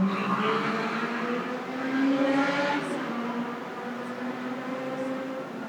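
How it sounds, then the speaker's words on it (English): A motorbike passes along a street, its engine a steady droning rumble that swells slightly toward the middle and stays fairly close throughout, with no speech over it. "There's always a motorbike."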